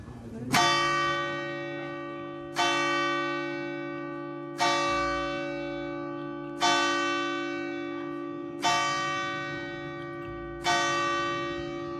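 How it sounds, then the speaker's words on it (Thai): A large church bell tolls six times at a slow, even pace, each deep strike ringing out and fading before the next. "เห็นตอนระฆังดังไหมคะ"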